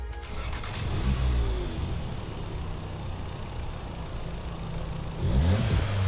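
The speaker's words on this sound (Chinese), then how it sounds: "这引擎有点太夸张了吧" A Volkswagen Golf engine revs in Gran Turismo 7 played in VR. Loud, close throttle blips rise and fall twice, and a steady engine drone fills the time between them.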